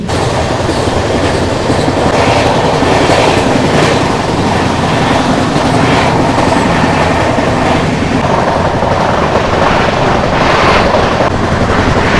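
A passenger train, the 12023 Patna Janshatabdi Express, rumbles steadily along the rails, wheels clattering in a continuous roar with no pauses, heard from on board or very close.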